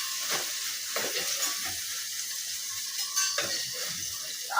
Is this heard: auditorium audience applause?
no